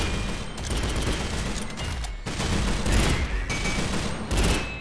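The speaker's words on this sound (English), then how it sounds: "Get a grenade in there." Top-down shooter Synthetik 2 in combat, a dense, continuous rattle of gunfire with heavy thumping blasts from a thrown grenade, loud and relentless with no pauses.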